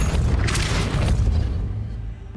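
A booming blast from the Depulso force spell in the Hogwarts Legacy game, a single deep, loud thump with a rumbling tail that fades over a couple of seconds.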